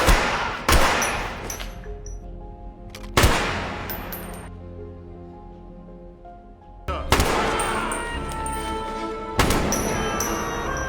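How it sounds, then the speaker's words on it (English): Gunfire erupts in a corridor fight: several sharp, loud shots at the start and again near the middle, each leaving a long ringing decay, then two more bursts of firing near the end. "The corridor filled with gunfire."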